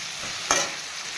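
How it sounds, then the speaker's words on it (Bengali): Garlic, ginger and red chili being sautéed in a pan, a steady oily sizzle with one short louder scrape of stirring about halfway through, no voices. "এবারে আমি ভালো করে কষে নেব"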